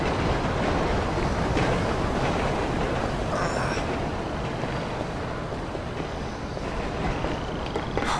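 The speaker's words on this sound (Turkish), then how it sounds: "Aa, tren geliyormuş, ses ondan geliyormuş yani." A train in Grand Theft Auto V rumbles past with a continuous loud roar and faint rhythmic clatter, steady and close, with no voices.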